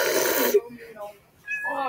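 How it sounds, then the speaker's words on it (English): A cat gives a short meow at the start, followed by a brief, softer vocal sound, fairly close and clear against a quiet indoor background. "this is a cute kitty, right?"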